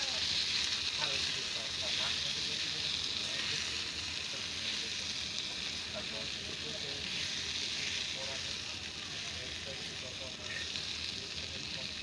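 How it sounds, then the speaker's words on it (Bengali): Eggplant slices frying in oil in a pan, giving a continuous, even sizzle and soft crackle close by, moderately quiet and unbroken. "এখন আমার বেগুনগুলো ভাজা হয়ে গেছে, আমি বেগুনগুলো এখন উঠায় নেব।"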